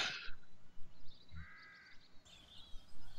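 Crows cawing in the video game Satinavs Ketten, a few harsh calls rising over a quiet ambient background, moderately near, with no talk.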